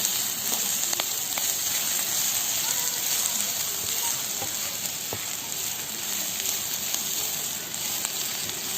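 Dried shrimp fry in an open pan with onion and coconut, giving a loud, continuous sizzling hiss with scattered clicks and scrapes as the mixture is stirred throughout.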